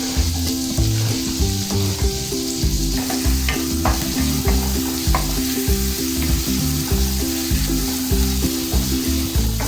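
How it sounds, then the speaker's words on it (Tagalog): Ginger and onion sauté in hot oil in a pan for Ilocano beef imbaliktad, a loud, continuous sizzle with occasional stirring clinks and no talking. "Kunting gisa lang"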